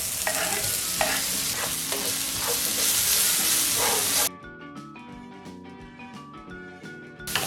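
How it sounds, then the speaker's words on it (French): Gnocchi frying in a pan for Japanese spaghetti Napolitan give a loud, steady sizzle for about four seconds, then it cuts off sharply to quieter clinks and stirring in the pan. "là vous allez introduire vos gnocchis"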